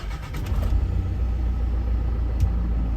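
A Mitsubishi Pajero Sport 2.5 diesel engine runs as a close, steady low rumble throughout, with a few faint clicks near the start and no voices.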